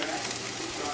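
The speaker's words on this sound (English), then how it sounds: "but you can hear it sizzling." Hashbrowns frying in butter in a pan give off a soft, steady sizzle, fairly faint and continuous throughout.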